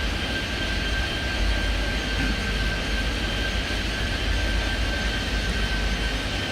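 A jet aircraft taking off in Airport Madness 3D, a steady broad engine roar with a thin high whine, holding at an even level throughout with no talk over it.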